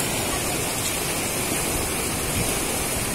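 A river rushes past close to its bank in a small hill-country market area, a loud, even broadband roar of flowing water throughout, with no talk.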